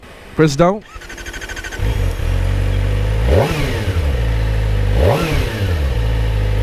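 A warm Kawasaki Ninja ZX-4RR inline-4 engine cranks and catches after a brief spoken instruction, then settles into a smooth, close idle punctuated by two sharp throttle blips a couple of seconds apart.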